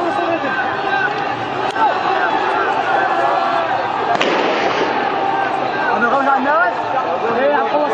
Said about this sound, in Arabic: اطلاق نار مباشر